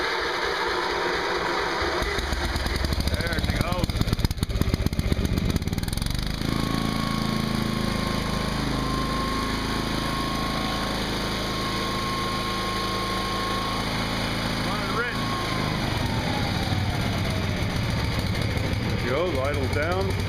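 A 1981 Lincoln Weldanpower 225 welder engine is cranked, catches and runs at a steady close, loud chugging idle with a faint whine, while someone talks over it.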